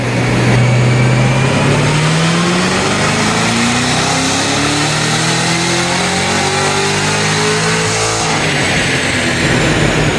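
A supercharged Cadillac CT5-V Blackwing engine runs loud and steady during a performance test, its revs rising smoothly in a long sweep before easing back near the end, with no talk over it.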